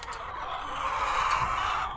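A flock of backyard chickens of mixed ages clucking and chattering in a steady, busy murmur, close by, with a few louder calls poking out.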